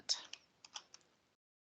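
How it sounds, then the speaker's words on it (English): A few quiet, irregular clicks of keys being pressed on a computer keyboard, close but faint, then silence. "And I'm getting tired of typing"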